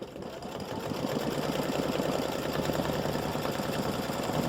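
An embroidery sewing machine tacks down applique fabric scraps, running a fast steady mechanical stitching chatter with a rapid even rhythm, close and continuous with no talk.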